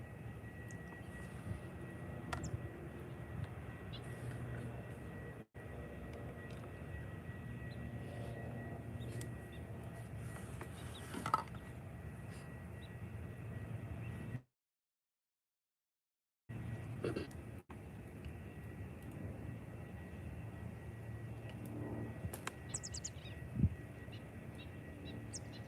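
An airplane flies near Faro Airport, a low steady engine drone carrying on at a distance for most of the stretch, broken by a brief dropout, with occasional bird chirps in the background.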